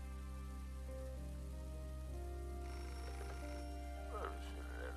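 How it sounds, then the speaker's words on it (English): A telephone rings in the video game Beholder, a steady electronic tone sitting over a constant low hum and ambient game music at moderate volume, with no one speaking. "Phone is ringing."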